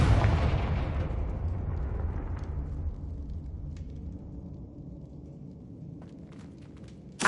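A Confringo fire spell explodes in the Hogwarts Legacy game, a loud booming blast that slowly fades into a long rumbling tail, ending with a brief sharp burst.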